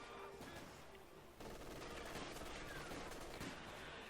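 Dense, sustained machine-gun fusillade from an MG42 in the video game Company of Heroes 2, a continuous rattling burst at moderate distance that swells louder partway through and runs unbroken to the end.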